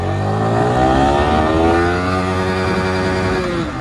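A Yamaha R15 V4 motorcycle accelerates hard in first gear, its engine note climbing steadily in pitch as the revs rise. It sounds loud and close throughout, with no talk.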